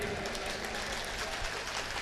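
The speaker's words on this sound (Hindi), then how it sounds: "एक बार जोरदार तालियां बजाइए" Audience applause at a Hindi comic poetry gathering, a kavi sammelan: a steady, dense wash of many hands clapping together, continuous and fairly even for the whole stretch, with no single claps standing out.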